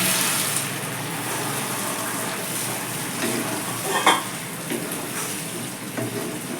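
Chana dal lentils tipped into a pan of oil-fried spices give a steady, loud sizzle and hiss with stirring scrapes and a brief splashy surge midway, close up and with no talking.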